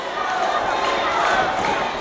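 Wrestling crowd in the World Gym Arena roaring and cheering in a dense, continuous wall of noise, loud and close throughout.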